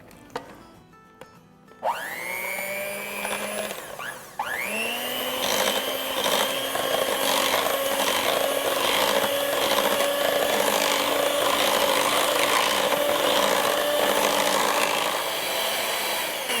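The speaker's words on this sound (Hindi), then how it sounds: "मैं इलेक्ट्रिक बीटर से फेंट लेती हूँ, जल्दी हो जाएगा" An electric beater whisks dahi bhalla batter in a bowl. After a few soft knocks it starts up with a rising whine, then holds a loud, steady motor drone with a rattling, churning texture.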